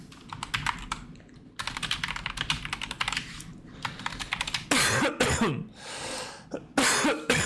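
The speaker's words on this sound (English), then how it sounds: "Damn, I just coughed all over my screen." Rapid computer-keyboard typing clatters in bursts, and a sharp cough breaks out near the end with a couple of rough follow-up hacks. Both sounds are close and loud.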